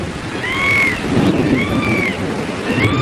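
Heavy rain pours down in a steady hiss, with rumbling thunder rolling underneath. Bright, chirping bird calls sound at intervals over the downpour.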